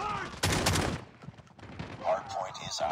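Gunfire in the Call of Duty video game, with a loud, dense burst of rapid automatic shots followed by scattered quieter shots and bursts amid other game sounds.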